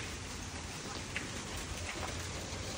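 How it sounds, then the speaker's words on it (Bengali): Steady outdoor rain falls during a sightseeing outing in Singapore, a dense, even hiss of drops that holds at the same level throughout, with no voices. "শেষ পর্যন্ত আমাদের সাথে আবহাওয়াটাও দুর্নীতি করলো, বৃষ্টি এসেছে।"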